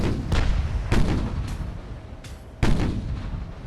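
Secondary naval guns on a warship firing in Ultimate Admiral: Dreadnoughts, a sequence of three or four sharp, booming reports with rumbling decay, loud and close, with no talking.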